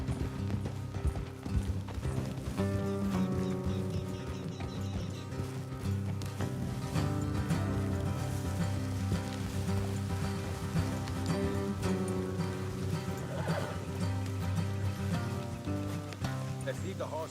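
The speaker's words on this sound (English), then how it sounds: "Let's leave the horses here and go the rest on foot." Horses in Red Dead Redemption 2 clip-clop along a road at a steady, moderate rhythm, with the occasional faint whinny, set against a continuous tonal game soundtrack.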